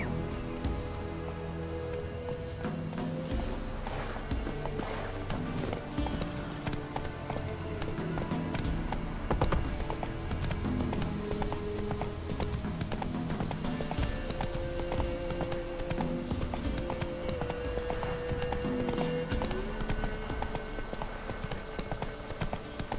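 Horse hooves gallop steadily in The Witcher 3, a rapid clip-clop running throughout over a dense bed of ambient game noise and music, fairly loud and continuous.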